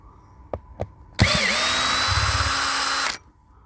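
A cordless drill driver works on a screw. Two faint clicks come first, then a loud, steady whir runs for about two seconds and stops abruptly.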